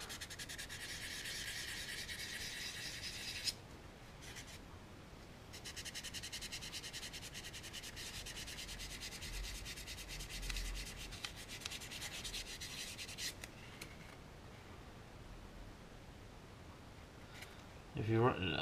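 Sandpaper rubs on the surface of a resin anime figure during surface prep, a faint, steady close-up scratching in bursts with short pauses between strokes.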